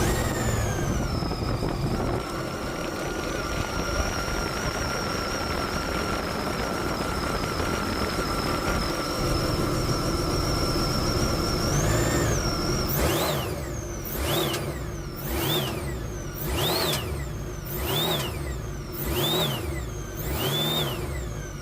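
Sea-Doo jet ski engine turned over and running steadily with a constant mid whine, then rising into a series of sharp, repeated revs near the end, close and loud.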